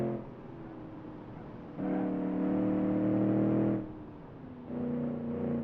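Late-1990s-spec car engine in a driving video game revving hard, holding a steady strained drone that swells louder for a couple of seconds, drops off, then climbs again.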